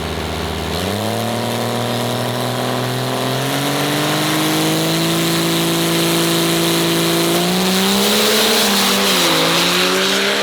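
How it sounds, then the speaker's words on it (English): 12-valve diesel truck on a drag strip, loud and close, its engine pitch climbing in a long sustained pull with gear shifts, alone without voices. "Cody Helms is a 12-valve truck and he's been fighting to get into the 5-second range"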